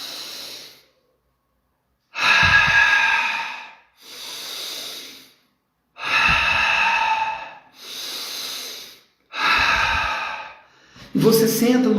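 Deep breaths taken as a relaxation exercise: a slow sequence of loud close inhales and exhales through the nose and mouth, alternating in a steady rhythm with short pauses.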